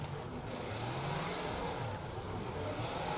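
Drift car engine revving up and accelerating on a circuit during an international drift competition qualifying run, a sustained loud roar with rising pitch, heard from a distance.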